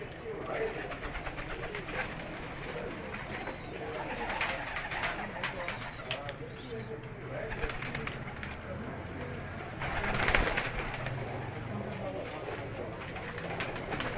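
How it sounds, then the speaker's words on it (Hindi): Bajrai and Teddy pigeons cooing in a Karachi high-flyer loft, soft repeated coos amid flapping and rustling, with someone talking over them throughout. "ये बाजराई और सिल्वर बाजराई कबूतर हैं, और यहाँ टेडी कबूतर हैं।"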